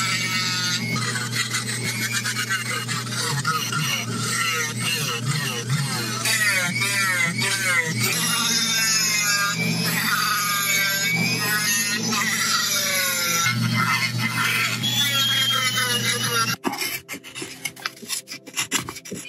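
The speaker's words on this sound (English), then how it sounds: "I'll be doing most of it with power tools and then finishing up with hand tools and change out the bits." A power carving tool with a round ball bit grinds a walnut spoon, giving a loud, close, continuous rasping whine with rhythmic strokes, then it stops, leaving a few light knocks.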